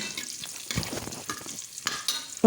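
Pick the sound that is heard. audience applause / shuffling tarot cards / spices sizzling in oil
spices sizzling in oil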